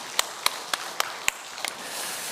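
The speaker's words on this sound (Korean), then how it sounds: "우리가 하나님께 정말 감사의 박수를 함께 올려드렸으면 좋겠어요." A church congregation claps hands together in thanks during a service: about seven crisp, evenly spaced claps in a quick steady rhythm, fairly faint and roomy, then trailing into low background noise.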